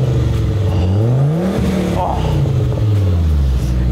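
A high-mileage Italian sports car engine revs loudly on a dyno nearby, rising and falling in pitch in repeated sweeps, with a brief exclamation from a voice over the roar.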